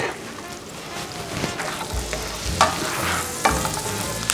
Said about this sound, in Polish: Gdy nasze masło się już rozpuszcza, dodajemy cebulkę posiekaną i czosnek.